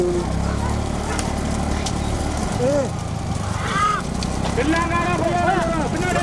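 Hooves of racing bulls pound along during a bullock cart race at Manjakudi in Pudukkottai, a dense, continuous rumble under loud shouting and commentary.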